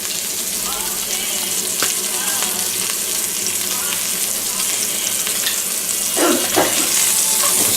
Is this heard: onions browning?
yes